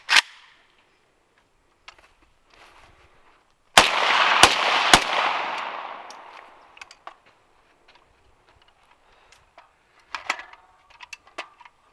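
An AK rifle fires outdoors: one sharp crack at the start, then a quick burst of three loud shots that ring out with a long fading echo, followed by faint clicks and handling noises.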